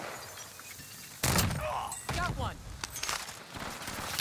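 Gunfire in the Call of Duty Warzone video game crackles in short bursts of shots and thuds amid ongoing game sounds, with players talking over the action.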